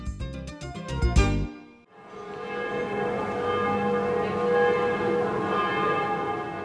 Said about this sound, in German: Am Nachmittag des 22. Februars ertönen die Glocken über dem Wernigeröder Marktplatz.